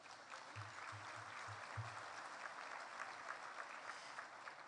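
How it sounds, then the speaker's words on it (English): Faint applause from a seated dinner audience at a State of the City event in Harlingen, an even, distant patter of many hands with a low hum early on. "Give them a round of applause, everyone."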